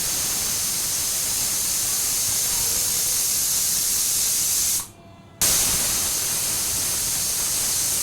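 A pressure cooker lets off steam in a loud, continuous hiss, breaking off briefly into near silence before the jet resumes at full force.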